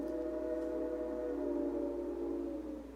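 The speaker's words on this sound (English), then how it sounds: "Oh, there's the train." A passing train sounds a steady, sustained horn-like tone over a constant low rumble, loud and continuous before easing slightly at the end.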